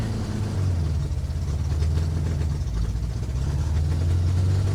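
A 1960 Triumph Herald engine, running again after 42 years sitting in Texas, revved in a steady loud drone that holds with little rise or fall, no voices over it.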